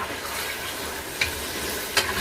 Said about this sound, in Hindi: ये हम अब चिकन फ्राई कर रहे हैं।